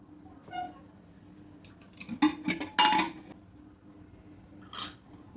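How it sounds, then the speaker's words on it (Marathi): Metal lid of a pressure cooker lifted off after cooking bajra khichdi with potatoes, giving a few close, sharp clanks and clinks clustered together, followed by a later rattle against quiet kitchen background. "आता आपण झाकण काढूया"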